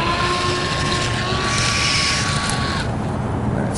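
A toy jet plane's motor throttles up for takeoff, a loud, steady whine with a sustained high tone that keeps roaring close by before shifting near the end, with no voices heard.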